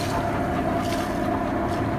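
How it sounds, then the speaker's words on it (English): Boat motoring along past the back of the volcanic island of Stromboli, a steady droning engine hum with wind buffeting the microphone throughout, no talk. "We're just motoring past the back of Stromboli"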